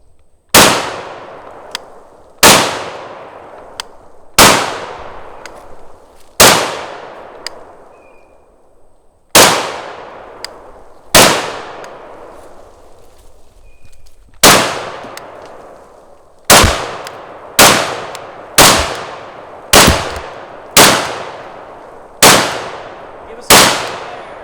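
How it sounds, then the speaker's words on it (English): A Steyr USR AUG bullpup rifle fires at a steel target outdoors, loud sharp shots with ringing decays, spaced at first and then coming faster in a quick string toward the end, with no voices. "Give us some rapid fire."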